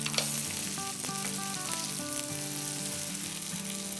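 Mutton chops frying in a pan, a steady, close sizzle that holds evenly throughout under soft background music, with no voices.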